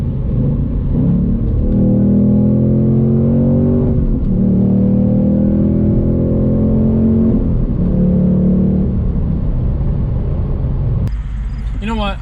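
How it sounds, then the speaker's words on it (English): A 2024 Ford Mustang Dark Horse downshifts and pulls hard, its engine rising in stepped revving climbs through the gears, loud and close from inside the car, ending in a sharp cut. "let's go ahead and get one little downshift and quick little pull here"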